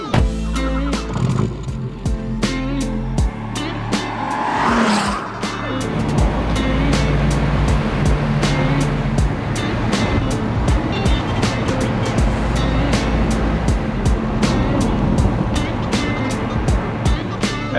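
A classic Alfa Romeo GTV6 rear-wheel-drive sports car drives at speed on open roads with a steady engine drone and road rumble, punctuated by sharp ticks and bumps, close up throughout.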